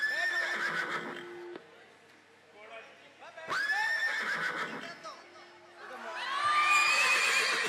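A person imitates a horse's neigh during a devotional storytelling gathering, giving loud drawn-out whinnying cries near the listener, with a crowd cheering and children shouting in the background.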